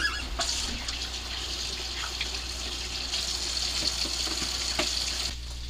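Water runs steadily from a kitchen tap while a pan is washed out, a constant hissing flow with a few clinks and splashes, ending abruptly near the close.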